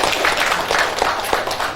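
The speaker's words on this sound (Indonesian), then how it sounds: "tepuk tangan kita semua dong" An audience at a youth management training session on drug dangers gives a short burst of applause, a brief dense patter of clapping with a few sharper claps poking through.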